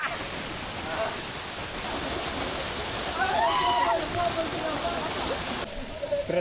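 Mountain stream rushing steadily on a hillside trek at Harishchandragad, a continuous broad wash of flowing water heard close, with a speaking voice briefly over it near the middle.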